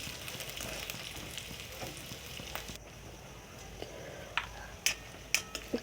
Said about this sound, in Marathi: खोबऱ्याचे काप थोडे कच्चेच ठेवायचे आहे खूप असे भाजायचे नाही आहे